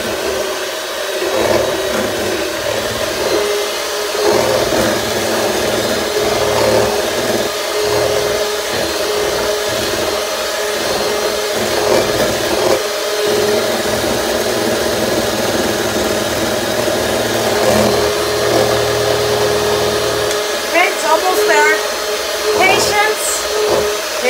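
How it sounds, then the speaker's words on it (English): An electric mixer whips cream for a make-ahead fruit salad, its motor giving a loud, steady whirring drone close by that runs without a break. "let's start the mixer again"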